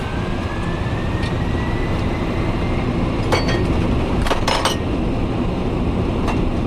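A Swiss MD-11 airliner's engines roar steadily during the takeoff roll, heard from the cockpit as constant broadband noise with a few sharp rattles and clinks.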